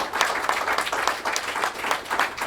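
An audience at a quarterly meeting claps together in a steady, continuous burst of applause that fills the room throughout, with no voices audible.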